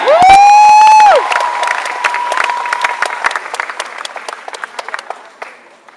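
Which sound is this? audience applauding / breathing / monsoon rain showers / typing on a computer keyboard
audience applauding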